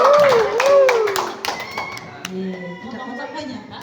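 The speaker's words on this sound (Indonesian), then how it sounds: "Tepuk tangan buat Tuhan Yesus." A church congregation at a Sunday service bursts into loud applause, a dense wash of clapping with voices mixed in that gradually thins out.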